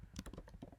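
Quick, light keystrokes on a computer keyboard, a short burst of about eight close taps in rapid succession.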